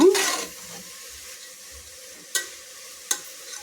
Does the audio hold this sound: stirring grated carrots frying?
yes